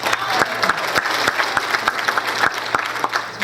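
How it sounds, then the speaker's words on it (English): An audience at a Valley Congress meeting claps together, a close, dense patter of many hands with sharp individual claps standing out, steady and fairly loud throughout. "give yourself a round of applause"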